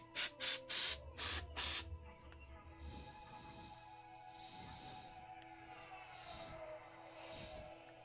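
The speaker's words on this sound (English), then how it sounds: "I did take a spray can to it." A spray paint can hisses in several short, loud bursts close up, then a person speaks quietly while softer rubbing and hissing continue beneath.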